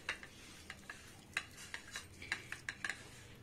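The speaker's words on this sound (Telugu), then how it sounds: "మనం ఇప్పుడు దీన్ని కంప్లీట్ గా మిక్స్ చేసుకుందాం." A spoon clinks and scrapes against a bowl while fish fry marinade is being mixed, giving about a dozen irregular sharp metallic taps over faint background hiss, close and fairly quiet.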